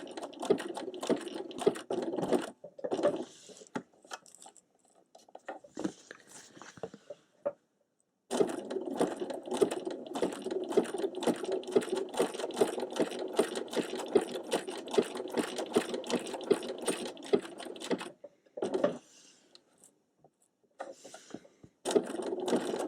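A sewing machine runs a satin stitch on fabric in steady whirring bursts, stopping and restarting as the fabric is rotated under the foot along a gentle curve of a tulip design, with brief silent pauses between runs.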